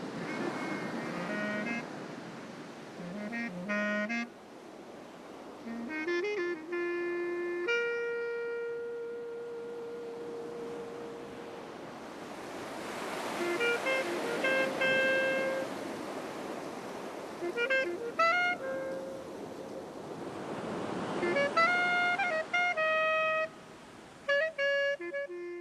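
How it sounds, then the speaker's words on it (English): Surf breaking on a pristine wilderness beach at the far north of northwest Australia: a steady, rolling wash of waves that swells and fades, with a melodic tune playing over it throughout. "A pristine wilderness beach right up the top end of northwest Australia."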